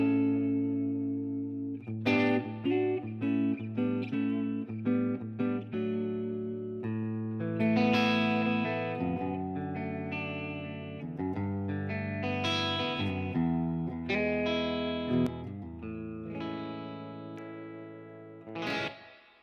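A Les Paul electric guitar plays a clean tone through a 2-Rock amp, with ringing chords and single notes in a steady flowing phrase and a roomy sustain, with no talking.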